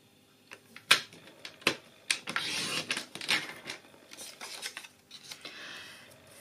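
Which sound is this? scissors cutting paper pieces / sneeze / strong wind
scissors cutting paper pieces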